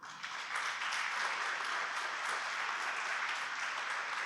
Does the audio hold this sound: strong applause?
yes